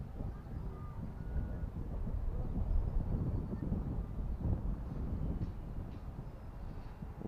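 Wind blowing steadily at Portishead Lake, a low, constant rumble that buffets the microphone near an RC toy boat, with no clear voices.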